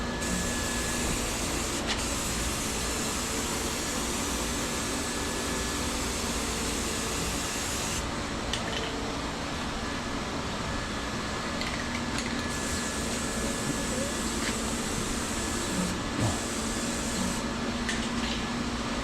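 A spray gun applies green paint to a custom rack for a pressure cleaning rig, giving a loud, continuous hiss of compressed air and paint that runs the whole time, with brief dips where the spray pauses.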